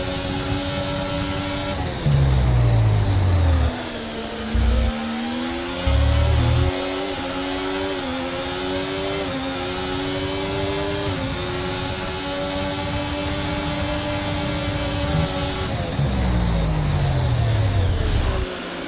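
Ferrari SF-24 Formula 1 car in the racing game F1 24 at the Austrian Grand Prix, its engine screaming loud and steady as it overtakes, pitch rising and dropping through gear shifts with brief bursts of other car noise.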